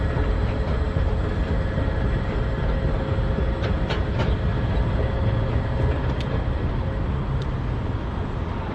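Las Vegas tram near the Mandalay Bay station rumbling steadily along its guideway, a continuous rail-like roar with a few faint high squeaks on top, heard from a nearby walkway.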